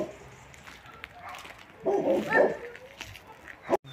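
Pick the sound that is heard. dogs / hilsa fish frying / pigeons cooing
dogs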